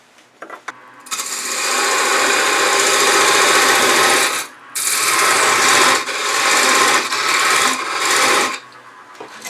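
A wood lathe turns a sea urchin ornament, a small part being shaped with a half-inch spindle gouge; a steady, close rasping cut runs continuously for several seconds with one brief pause midway.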